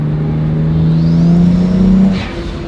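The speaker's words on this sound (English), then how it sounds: "Yeah, those two little turbos, they just spool immediately." A car with a twin-turbo setup revs loudly and close, with a steady engine drone that rises slightly, then eases off near the end as a faint turbo whoosh appears.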